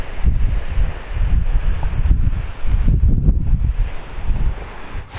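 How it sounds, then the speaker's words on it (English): Strong gusty wind buffeting a microphone on an exposed mountain summit along a hiking trail, loud rumbling bursts rising and falling with no voices. "It's quite windy up here."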